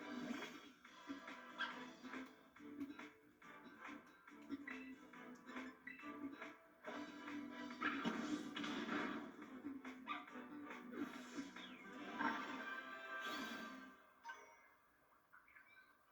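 Small dog-like yips and whimpering cries from creatures in Pokemon Violet repeat over a busy electronic game soundtrack, with brief bursts rising throughout.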